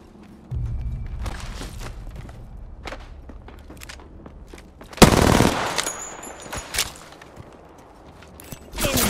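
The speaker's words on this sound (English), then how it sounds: "Listen up, I'm getting shot at." Gunfire in Apex Legends during a firefight: bursts of rapid shots and a loud close blast midway, with footsteps and shuffling between volleys.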